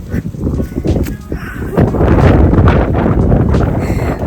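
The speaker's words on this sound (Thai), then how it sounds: "ลมแรงมาก" Strong outdoor wind buffets the microphone, producing heavy low rumbling gusts that build and stay loud through most of the clip, with some faint voices.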